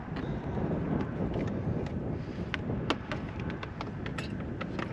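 Stiff, gusty roadside wind of around 20 miles an hour buffets the microphone on a hot day beside a highway, a continuous rumbling rush with occasional sharper crackles and no talking.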